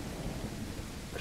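Rain and thunder in the video game No One Survived, a dense, steady hiss of rainfall over a continuous low thunder rumble, evenly loud with no pauses.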